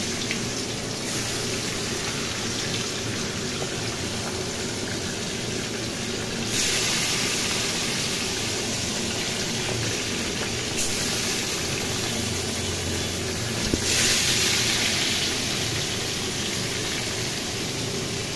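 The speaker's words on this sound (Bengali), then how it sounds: "মাছগুলো ভেজে নিই এক এক করে। তেলটা অনেকক্ষণ দিয়েছি, গরম হয়ে গেছে।" Salt and turmeric coated fish frying piece by piece in hot oil, a steady broadband sizzle that swells louder at moments as pieces go in, continuous and close with no talk.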